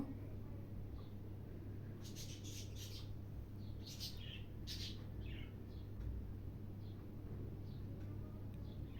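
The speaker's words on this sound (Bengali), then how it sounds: "আমার বারান্দার পাখিগুলো অনেক ডিস্টার্ব করতেছে" Birds on a balcony give faint, scattered chirps over a steady low hum, heard from a distance in the background of a kitchen.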